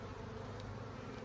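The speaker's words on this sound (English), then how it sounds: "mortician bees. I noticed them moving bees out of the way." Mortician honey bees buzz inside an open hive, a dense, steady hum close up and continuous throughout.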